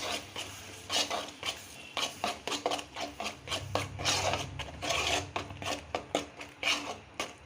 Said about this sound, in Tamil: தேங்காவையும் நல்லா வதக்கி விட்டுறணும்.